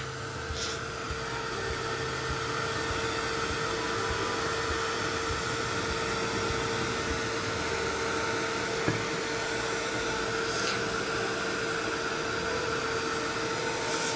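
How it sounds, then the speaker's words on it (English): A heat gun drying chalk paint gives off a continuous, even blowing roar with a steady whine throughout, close and unchanging, with no talking. "now again I'm going to use my heat gun"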